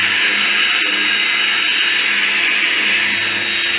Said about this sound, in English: I had a bright idea to use my power washer